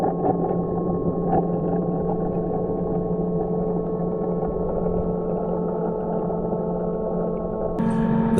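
A Lydsto robotic pool vacuum runs steadily underwater in a pool, giving a constant motor hum with a sharper mechanical change near the end.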